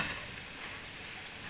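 Onion frying in a pan alongside sardines, giving a steady, dense sizzle that stays even and close throughout with no talking.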